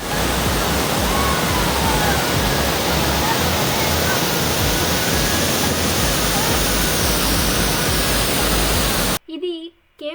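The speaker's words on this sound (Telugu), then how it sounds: "Get more close to the waterfalls, okay?" Niagara Falls roaring at close range, a massive, unbroken wall of rushing water noise that stays loud and steady, cutting off near the end where a voice briefly speaks.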